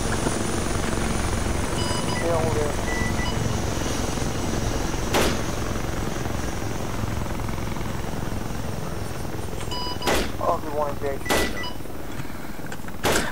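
Military helicopter lifting off and departing south during a 3 Commando Brigade operation in Afghanistan, its broadband rotor roar filling the whole stretch, with a few sharp bangs and radio chatter heard over it.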